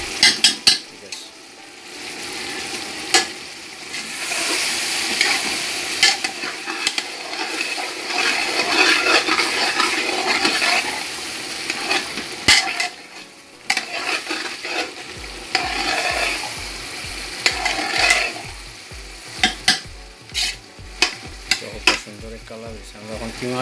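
Minced meat frying with mixed spice powder and turmeric for a samosa filling, with a steady loud sizzle and repeated stirring and scraping in the pan, ending in a run of rhythmic clinks from the utensil.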